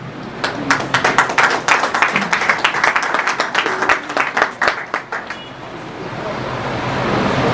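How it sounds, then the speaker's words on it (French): Audience applause at a university event, a loud burst of many hands clapping with individual claps standing out, fading after about five seconds into a steady room hiss. "je vous demande de l'applaudir"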